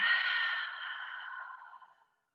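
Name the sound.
deep exhale through open mouth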